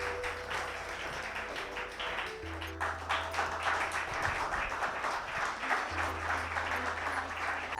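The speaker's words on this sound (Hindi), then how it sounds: "एक बार डिम्पल मैम के लिए जोरदार तालियां हो जाए।" Hall applause for Dimple Ma'am at a Women's Day award ceremony: a dense, steady patter of hands over a low hum that runs through the whole stretch.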